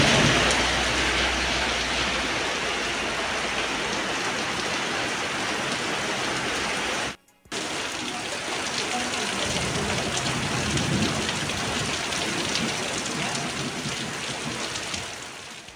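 Heavy rain pours steadily in Kolkata during a cyclone, a dense continuous wash of drops with low thunder rumbling beneath it, unbroken except for one brief cut midway; no voices.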